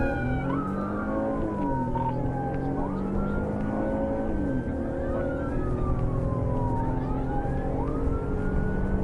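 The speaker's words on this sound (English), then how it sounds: "Even with sirens wailing" Several police sirens wail and rise and fall over steady road noise from a car in a high-speed chase after a Corvette, the tones sweeping up and down and overlapping as the vehicles move.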